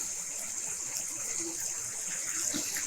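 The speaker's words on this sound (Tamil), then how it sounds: "கூடவே அடுத்து நம்ம வச்சுருக்க புளி தண்ணியை ஆட் பண்ணிக்கலாம்." Thick tamarind water pours steadily into a pan of mint thokku, a continuous close liquid splash with a faint voice in the background.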